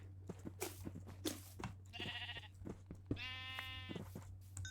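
Several sheep bleat in Minecraft, their wavering game-sound calls coming one after another at moderate loudness over a steady low background hum, with no talking.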